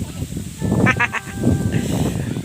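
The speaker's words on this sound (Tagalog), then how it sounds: "Yan yung kambing natin." Pregnant goats grazing in a pasture on a goat farm give a short wavering bleat, close and fairly clear, over background rustle and muffled activity.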